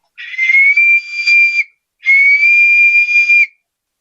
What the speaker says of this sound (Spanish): una botella silbato